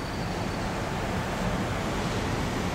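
Waves on the Bosphorus strait in Istanbul make a steady, unbroken wash of broadband noise with some wind mixed in. It holds at an even level throughout, and no voices are heard.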